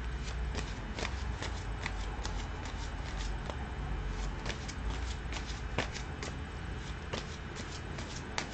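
Rune cards are shuffled continuously with a dense, close papery riffle and soft flicks, steady and fairly quiet with no voices.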